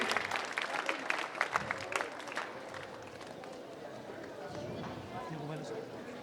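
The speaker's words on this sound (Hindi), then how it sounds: "एक बार जोरदार तालियों से स्वागत हो।" Scattered hand claps from a crowd of schoolchildren greeting the principal and vice principal at a Navodaya school alumni meet, sharper and denser early, then thinning to a softer patter with voices mixed in.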